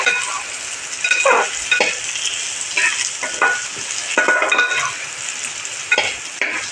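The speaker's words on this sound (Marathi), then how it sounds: "हे आता मी तांदूळ भाजून घेणार आहे छानपैकी" Rice being dry roasted in a pan, stirred with steady scraping, rustling strokes and a soft continuous sizzle, close and fairly loud with no talking.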